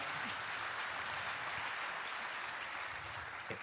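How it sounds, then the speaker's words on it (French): Even, continuous applause fills the room at an award ceremony, a steady dense wash of clapping from the audience with no break, voices barely noticeable beneath it. "On peut l'applaudir, oui, on peut l'applaudir."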